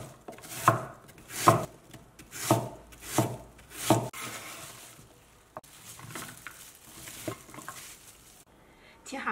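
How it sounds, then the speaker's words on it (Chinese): Knife cutting peeled Chinese yam into thin slices on a board, five distinct loud chops in a steady rhythm followed by quieter, softer cutting and handling sounds, close up with no talking. "削皮之后呢，再把它给切成薄片。"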